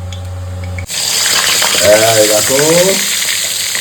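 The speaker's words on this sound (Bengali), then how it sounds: "এখন চিংড়ি মাছটা ভাজা হচ্ছে আর রঙটা পরিবর্তন হয়ে যাবে" Prawns hit hot mustard oil in a pan and break into a sudden loud, steady sizzle that keeps crackling close by, while someone speaks briefly over it.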